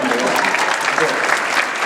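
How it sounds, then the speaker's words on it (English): A brief, steady burst of audience applause at a talk, dense clapping filling the room with murmured voices mixed in. "Let's go ahead and give that a little applause."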